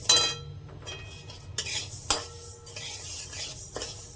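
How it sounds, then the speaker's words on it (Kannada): Moong dal (split green gram) being stirred and dry-roasted in a pan over a low flame, with repeated scraping clinks of a metal spoon against the pan, faint sizzling underneath, close and fairly quiet, no talk. "ಇವಾಗ ಅಮ್ಮ ಹೆಸರು ಬೇಳೆ ಹಾಕೊಂಡಿದ್ದಾರೆ, ಅದನ್ನ ಇವಾಗ ಚೆನ್ನಾಗಿ ಹುರ್ಕೋತಾರೆ"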